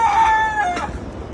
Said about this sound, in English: now we have a lot of roosters